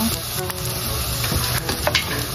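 Ginger and garlic hit hot oil in a pan with a loud, steady sizzle, punctuated by light stirring clicks and scrapes of a utensil.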